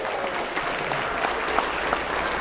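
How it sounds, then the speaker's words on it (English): Steady applause from an audience at an evening symposium event, a dense even patter of many hands clapping alone for a couple of seconds with no voices over it. "Give him a round of applause, will you?"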